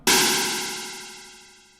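A single harsh, clangorous FM synth tone, inharmonic and detuned, strikes suddenly and slowly fades, full of clashing metallic overtones with a faint wavering shimmer.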